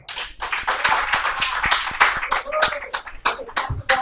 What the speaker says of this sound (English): I want us to give them another round of applause